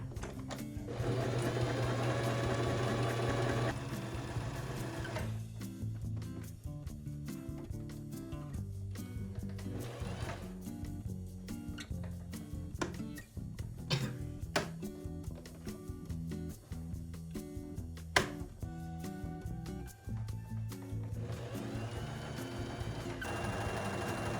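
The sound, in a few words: sewing machine stitching fabric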